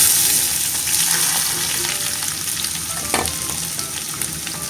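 Two bay leaves fry in hot oil with a dense, steady sizzle and crackle, close and fairly loud, with one brief stirring clatter partway through and no voices.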